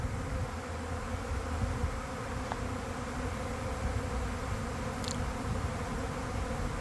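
A honey bee swarm settles onto a tree outdoors about 100 meters from a factory, giving a steady, continuous buzzing drone throughout with no talking.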